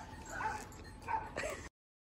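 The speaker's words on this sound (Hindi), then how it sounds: "सरदार जी इनका कुत्ता है।" A dog yips and whimpers in short, close bursts over a noisy outdoor background, with a few excited barks.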